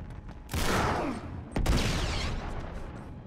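Bursts of heavy gunfire in the Uncharted 3 Drake's Deception action game: two loud, rattling volleys, the second opening with a sharp crack, over a rumbling battle ambience.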